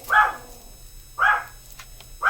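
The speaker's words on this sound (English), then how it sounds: "She's probably barking at my neighbors." A dog barks outdoors in three separate, loud single barks spaced about a second apart, with no talking over them.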